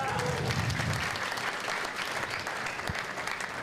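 A conference crowd breaks into a full round of applause, dense and sustained, with a voice briefly audible at the start beneath the clapping.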